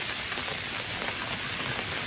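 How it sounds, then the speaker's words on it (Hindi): Heavy rain pours steadily in Solan, a dense, unbroken hiss of drops hitting surfaces at even loudness throughout, with no voices. "बारिश सोलन में इस वक्त जमकर हो रही है।"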